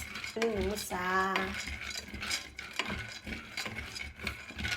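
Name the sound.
roasting fresh granules in a pan on the stove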